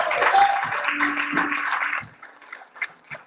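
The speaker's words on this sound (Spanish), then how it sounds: "Dale un aplauso al Señor." A congregation at a Spanish-language church service claps loudly for about two seconds; the applause then thins quickly into scattered faint claps.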